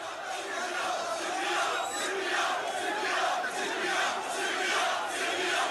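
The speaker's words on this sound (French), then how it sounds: "la foule se met à gronder un slogan." A protest crowd rumbles out a slogan in unison, a dense, continuous wall of voices with rhythmic swells, loud and close, between volleys of tear gas.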